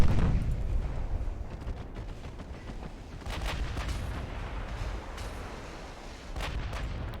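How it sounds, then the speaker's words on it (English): 8-inch naval guns fire in Ultimate Admiral: Dreadnoughts, a dense rumbling barrage of booms rolling over each other with a few sharper cracks standing out in a loud, continuous battle din. "That's a lot of 8-inch guns."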